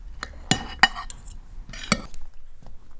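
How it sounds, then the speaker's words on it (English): A spoon scraping and clinking against a plate while cutting overcooked beef, several sharp separate clicks and scrapes, close and fairly quiet, with no talk. "The beef is rather tender when I cut it with my spoon."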